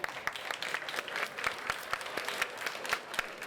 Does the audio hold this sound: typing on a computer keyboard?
no